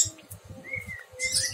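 A captive prenjak (prinia) songbird gives a few thin, high chirps and brief whistles, close and fairly soft, over a low background murmur.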